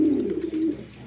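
A pigeon feeding its newly hatched chicks gives a low, steady cooing hum with a faint higher squeak over it, close and continuous throughout.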